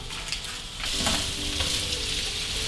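Seafood hash of potatoes, peppers and onion frying in a hot pan, a steady close sizzle that swells louder after about a second and keeps crackling with no talk.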